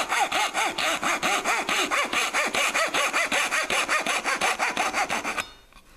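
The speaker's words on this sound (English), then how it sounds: "I'm just cutting down using the whole length of the blade" A hand saw cutting finger joints in wood, long rhythmic rasping strokes using the whole blade, about twenty steady back-and-forth passes close by before the sawing stops.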